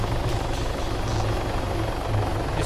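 A helicopter in the Arma 3 game thrums with a steady, close rotor beat throughout, loud and alone with no talking.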